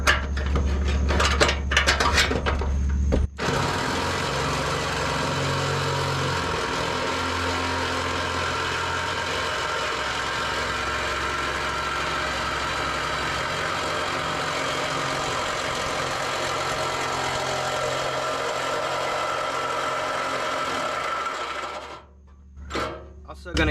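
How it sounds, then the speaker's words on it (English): A power saw with a carbide blade cuts through metal, giving a loud, continuous harsh whine with a steady grinding drone for about eighteen seconds. Short clattering sounds come just before the cut and again as it stops. "see if I can keep making light work of this with the carbide blade"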